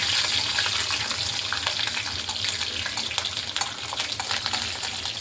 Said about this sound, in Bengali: এই যে মেথিটা ভাজা ভাজা হয়ে গেছে কিন্তু খেয়াল রাখতে হবে মেথিটা যাতে না পুড়ে যায়